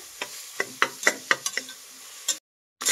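Onions frying for chicken biryani, a soft close sizzle broken by a series of sharp spoon-stirring knocks against the pan, then a brief silence and more stirring.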